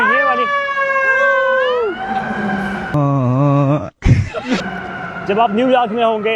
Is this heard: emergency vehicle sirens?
yes